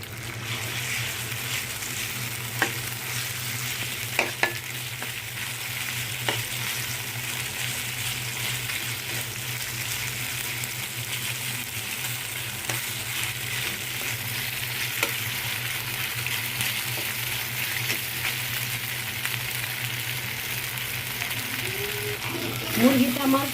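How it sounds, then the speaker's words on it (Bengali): Chicken pieces fry in hot oil in a wok for chilli chicken, giving a steady, even sizzle for the whole stretch with a few soft stirring knocks and a brief louder crackle near the end. "এই মাংসগুলো এখন আমি হালকা করে ফ্রাই করব।"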